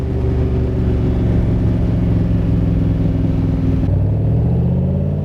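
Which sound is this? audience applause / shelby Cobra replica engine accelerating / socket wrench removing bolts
shelby Cobra replica engine accelerating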